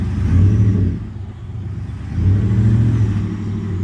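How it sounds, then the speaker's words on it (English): A 2023 Ford F-150 pickup with an MBRP aftermarket exhaust builds in two surges with a deep, throaty exhaust rumble, dipping between them; loud and close, with no talking. "Now let's put the MBRP exhaust on and see what that sounds like."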